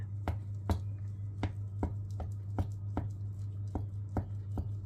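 A knife chops through a baked tortilla kebab between its skewers in a kitchen, about ten crisp, evenly spaced cuts, each landing as a short sharp knock on a board, close and clear over a steady low hum.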